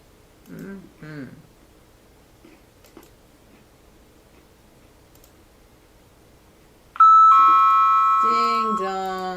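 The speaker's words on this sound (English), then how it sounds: "Ding dong." A doorbell chime rings out loud and close near the end, after a long quiet stretch with a couple of brief spoken sounds and faint clicks.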